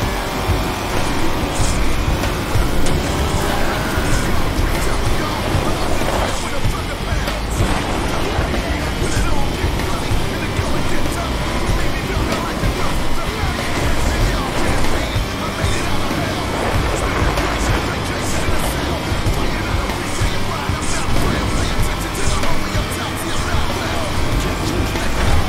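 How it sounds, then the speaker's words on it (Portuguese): A Fusca (VW Beetle) engine accelerating hard on sand in the Baja Edge of Control racing game, a steady loud motor roar running unbroken throughout with surging noise and no speech. "Não é nitro, é o acelerador."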